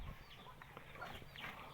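Soft clucks and small throaty calls from a chicken, a few short faint sounds close together over quiet background.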